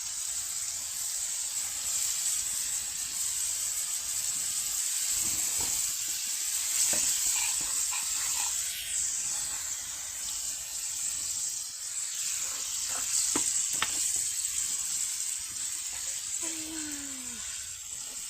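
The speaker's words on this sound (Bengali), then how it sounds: "এখন ভালো করে নাড়াচাড়া দিয়ে মশলাটা ভালো করে কষান করে নিব" Turmeric and chili powder with dried fish fry in a pan under a dense, steady hiss of sizzling oil, with occasional scrapes and knocks as a spoon stirs the mixture, and no talking.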